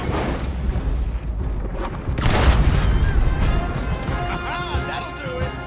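Gunfire and crashing in Red Dead Redemption 2, a loud, dense barrage of shots and impacts over a rumbling, noisy background from start to finish.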